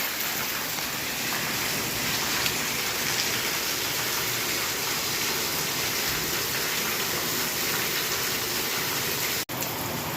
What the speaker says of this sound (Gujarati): વરસાદે દેશ ધનાધન ચાલુ કર્યું છે